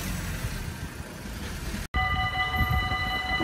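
Train passing at Nieuwstadt: a steady, rumbling roar of rolling stock, cut by a brief gap, then resuming with sustained whining tones from the train, loud and near.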